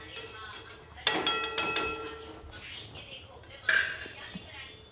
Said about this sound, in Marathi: बेटा याला झाकायला दे ना ताट. आता कम गॅस करून याला 5 मिनिटं झाकून ठेवून देते.